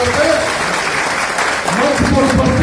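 Loud crowd applause and cheering at an election rally in Ujiarpur, a dense roar filling the whole stretch, with a voice speaking over it near the end.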